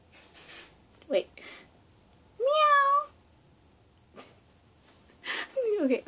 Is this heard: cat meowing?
yes